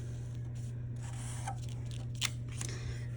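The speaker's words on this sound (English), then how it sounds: "Now I'm going to cut those 2 mittens out using my scissors." Scissors snipping through paper while cutting out mitten shapes, a few quiet close snips over a steady low hum.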